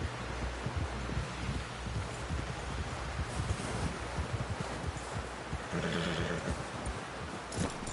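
Horse neighs and hoofbeats in Red Dead Redemption 2 mix with rustling and wind across a steady, busy game soundscape, with no clear voices.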